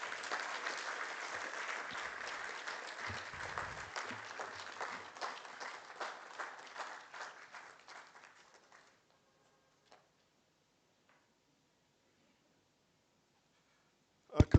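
A conference audience at the opening of Nairobi Arbitration Week claps in a sustained round of applause that fades out around nine seconds, followed by near silence and a brief loud burst at the end.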